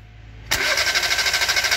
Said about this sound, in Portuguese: Vamos dar uma partidinha aqui agora.